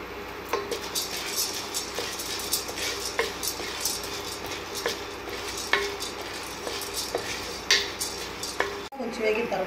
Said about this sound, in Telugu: ముందుగా పుట్నాలు ఫ్రై చేసుకుందాం